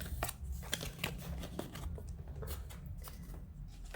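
Tarot cards being shuffled by hand, a run of crisp papery riffles and flicks that come close and fairly loud with no talking over them.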